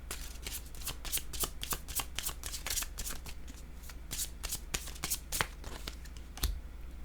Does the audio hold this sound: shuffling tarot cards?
yes